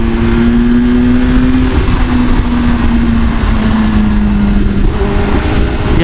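A Peugeot car's engine drones steadily up close with a strong low tonal hum, part of a roadside scene heard from a motorcycle, constant and loud throughout.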